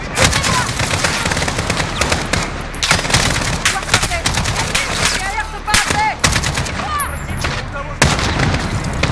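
Rapid machine-gun fire and shots ring out in a Call of Duty: Modern Warfare mission, loud continuous bursts with booms, while voices call out over the shooting.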